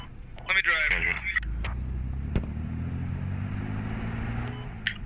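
A vehicle in the video game Squad, its engine a steady low drone that runs through the whole stretch while players talk over it, with a brief louder burst near the start.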